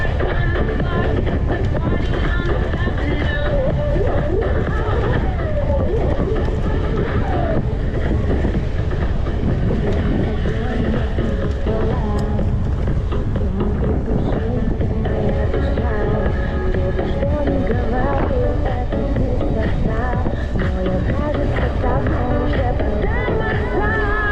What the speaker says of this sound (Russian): сейчас едешь и ветер фигачит